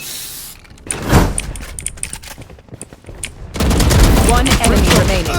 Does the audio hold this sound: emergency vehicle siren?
no